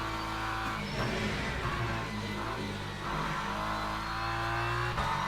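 A BMW race car in Le Mans Ultimate at Circuit of the Americas gives a steady, loud, droning engine note that stays close and continuous, rising and falling slightly through gear changes.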